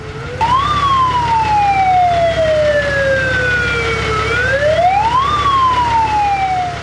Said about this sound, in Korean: 먼저 소방 소리부터 한번 들어볼게요.